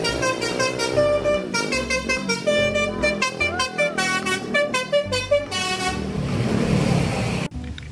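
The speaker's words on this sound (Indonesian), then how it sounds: "Mobil bus telolet teman-teman." A toy bus plays a loud, continuous telolet horn melody, bright tooting tones that shift pitch in a busy repeating tune for the whole stretch, cutting off abruptly near the end.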